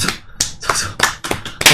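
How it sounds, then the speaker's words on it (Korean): A few people clap in short, separate bursts at a Korean political talk show, close and loud, with brief pauses between the rounds of clapping. "박수."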